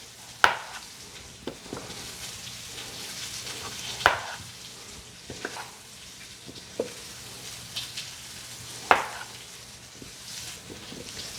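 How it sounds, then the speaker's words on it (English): Petite Yukon Gold potatoes are sliced for a pot roast, with a scattering of sharp, separate knife cuts spaced a second or more apart over quiet kitchen background. "I'm going to go ahead and slice those to make those a little bit more"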